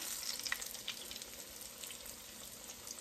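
Salmon croquettes fry slowly in a pan, a quiet, steady sizzle with small pops and crackles scattered throughout and no talking.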